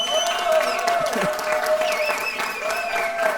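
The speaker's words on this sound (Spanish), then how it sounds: "Un aplauso para ellos" Audience applause for the staff who ran a neighbourhood games event, a sustained crowd clapping with a faint tonal background and murmured voices mixed in.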